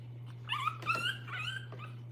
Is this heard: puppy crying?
yes